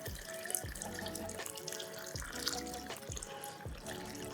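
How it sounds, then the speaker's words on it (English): About 2 liters of water pouring and splashing into a cooking pot, a continuous rushing flow with bubbly gurgles, close and fairly steady. "So I'm adding about 2 liters of water."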